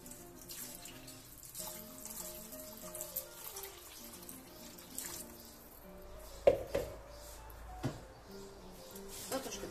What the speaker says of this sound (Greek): Θα προσθέσουμε νεράκι.